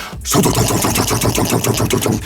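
A rapid, loud burst of repeated electronic shots from an 1980s arcade game's end-of-level tally fires in a steady rhythm for about two seconds after a brief gap, like gunfire.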